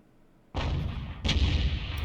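French 155mm artillery gun firing in World of Tanks, two heavy booming shots about three-quarters of a second apart, loud and close with a long rumbling tail.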